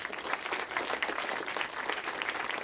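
Applause from the audience at the close of an academic event on creativity and collaboration, steady dense clapping from many people, fairly close and sustained without speech.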